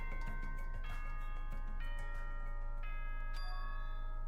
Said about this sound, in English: Was that a school bell just now?